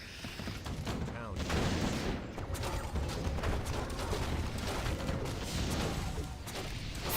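Dense, continuous game battle din from Warcraft 3 mortar teams firing fragmentation shards, a steady wash of booms and crackling impacts overlapping with other unit sounds, with talk running over the top.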